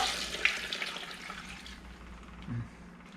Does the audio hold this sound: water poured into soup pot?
yes